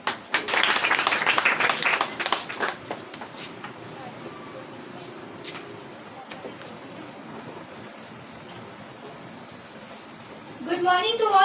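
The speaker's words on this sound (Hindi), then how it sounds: "तो जोरदार तालियां से स्वागत करिए शिखा का" Students and teachers at a school Teachers' Day event clap loudly for about three seconds, then the applause fades into room murmur with a few scattered claps and a voice at the end.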